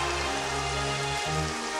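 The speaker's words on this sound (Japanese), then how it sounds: "あーっと、大雨になりました。" Heavy rain weather effect in the Pokémon Stadium Gold and Silver battle game, a steady dense hiss of downpour with a low droning tone underneath, continuous and fairly loud with no voices.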